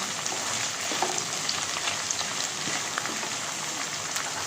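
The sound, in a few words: stirring and frying ginger garlic paste in a pan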